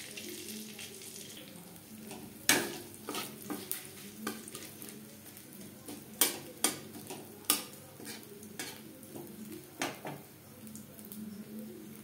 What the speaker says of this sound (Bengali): মাছ ভেজে নেওয়া কড়াইতে আবারও তেল দিয়েছি। ফোড়নে দিয়ে দেব 5 ফোড়ন তেজপাতা।